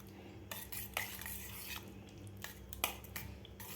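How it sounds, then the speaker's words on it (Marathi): A spoon stirs cooked raw mango in a pot, scraping and clinking against the metal in irregular strokes, with a faint sizzle underneath and no talking. "याला व्यवस्थित चमच्यानं हलवून घ्यायचं आहे आपल्याला."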